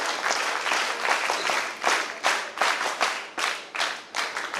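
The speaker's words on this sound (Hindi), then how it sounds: "एक बार उनके लिए जोरदार ताली बजाएं" A crowd at an Independence Day NCC student event applauds Sangeeta Sukhwal, with loud, close clapping that swells in repeated rhythmic surges, one strong burst after another, and no talk over it.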